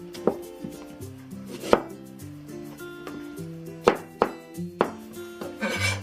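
A knife chops winter melon into small rectangular chunks about half an inch thick on a cutting board, making a series of sharp, close, irregularly spaced knocks with light clatter between them.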